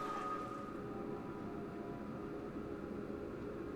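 Steady low underwater ambience from a video game's ambience setting, a continuous muffled hum and wash with a faint tonal drone, moderately quiet and unbroken throughout, with no voices.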